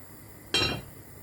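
A metal pot lid set down on a pot of simmering chilli con carne gives one sharp clink, ringing briefly before fading into a quiet kitchen background.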